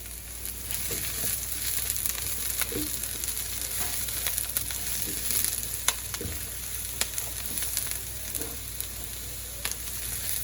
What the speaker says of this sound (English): And then we'll throw our asparagus in last and let it cook up as well.